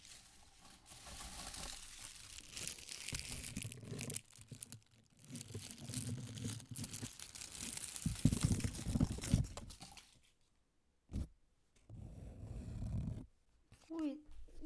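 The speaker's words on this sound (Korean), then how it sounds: "바스락바스락 하는 소리가 정말 좋아요." Crisp crinkling and crackling of dried autumn leaves handled close up, broken by short pauses, with a faint voice near the end.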